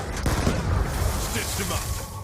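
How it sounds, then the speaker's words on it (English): A C4 charge explodes in Call of Duty with a heavy, rumbling blast. The boom spreads across the whole moment amid dense game noise, with an indistinct voice underneath. "C4 can be used in a lot of different ways, since it can be thrown a good distance, sticks to any surface, and has a large explosion radius"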